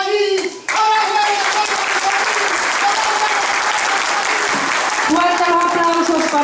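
Loud, sustained applause from an audience honoring Dagoberto and Félix García at a cultural event, steady clapping mixed with a host's amplified voice and cheers, briefly dipping near the start before swelling again.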